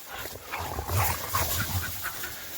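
Dogs on a river bank at sunset whimper and pant close by over a constant rushing background of flowing water; no talking.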